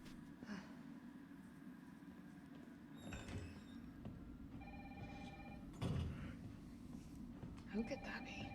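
A telephone rings faintly in the video game Resident Evil 3 Remake, with a couple of short electronic ring bursts amid low game ambience and occasional thuds and clatters.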